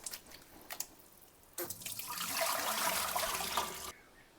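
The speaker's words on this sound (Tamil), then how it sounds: "அப்போ திருப்பி நம்ம நல்லா தண்ணியில் திருப்பி வாஷ் பண்ணணும்" Wild greens are washed by hand in water, a soft splashing and swishing that swells from about the midpoint and continues steadily before cutting off, after a few faint drips and small touches.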